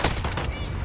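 A rapid burst of gunfire from the Modern Warfare video game, a few quick sharp shots in succession, close and fairly loud.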